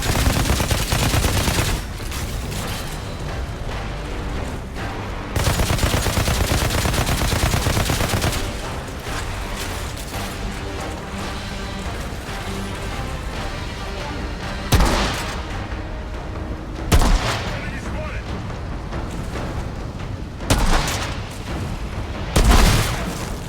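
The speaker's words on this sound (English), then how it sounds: "Some of the guns just sound insane." Gunfire in the video game Outriders: loud bursts of automatic weapon fire and heavy booming shots, dense rapid volleys broken by short pauses and sharp blasts, with no talking.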